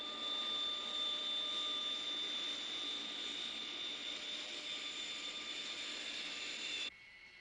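A jet airliner at an airport in an animated cartoon, a loud steady engine roar with a high whine that holds before dropping abruptly near the end, with no talking.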